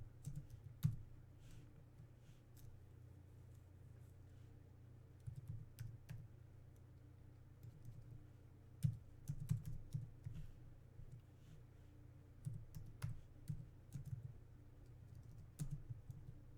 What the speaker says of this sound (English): I'm just going to keep typing.